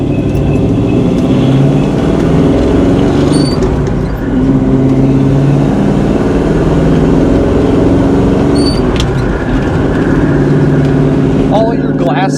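A 1969 Ford Mustang Mach 1 rolls over a bumpy road, its engine a steady, loud rumble close by, with soft rattles and knocks from the suspension running through the whole stretch.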